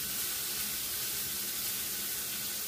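Steady, dense sizzling of garlic, peppers, onions and cucumbers in a hot stir-fry pan, a continuous loud hiss with no pauses.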